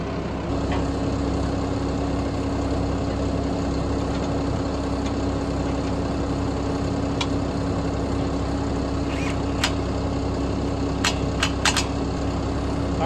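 A tractor engine idles with a steady low rumble and constant hum, joined by a few sharp clicks and rattles near the end.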